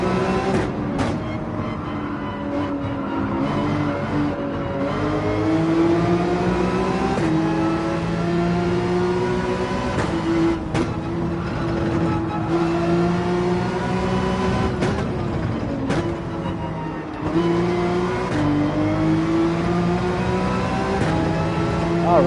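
A race car in Gran Turismo 7 on the Dragon Trail circuit drones through a long lap, its engine rising and falling in pitch through gear changes, steady and loud with occasional shifts and no talk.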